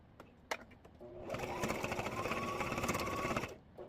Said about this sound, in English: I'll place the two ends together, and I'm just going to stitch those together.